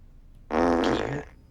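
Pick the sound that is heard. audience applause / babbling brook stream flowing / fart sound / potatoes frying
fart sound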